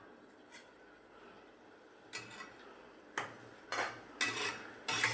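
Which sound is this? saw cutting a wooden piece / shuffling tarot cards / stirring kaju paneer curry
stirring kaju paneer curry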